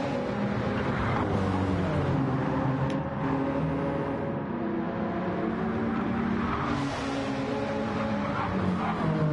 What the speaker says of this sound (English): Doesn't look like he's fuel saving because he's revving it too high up